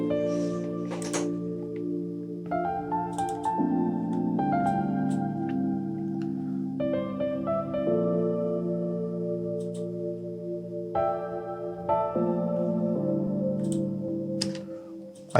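Soft, sustained cinematic piano chords from Keyscape ring out with long reverb tails, slow and atmospheric, changing every couple of seconds with no voices, in an Amapiano production.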